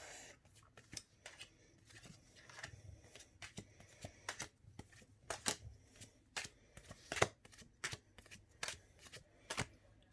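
A blue Angels Tarot card deck is shuffled in a run of quiet, irregular riffles and snapping card taps, close and alone with no talking.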